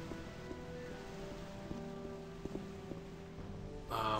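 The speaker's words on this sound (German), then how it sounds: "Das Wasser wird auch immer lauter." Steady rushing water in the video game Gothic, a continuous broad wash of flowing sound with faint tonal game ambience layered over it and a brief louder burst at the very end.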